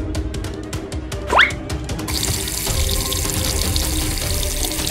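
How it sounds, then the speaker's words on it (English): Water runs steadily from a tap into a toy blocks house during children's pretend play, a continuous loud hiss that begins after some clicks and a short squeaky rising note. "NEMI, pour some water in here."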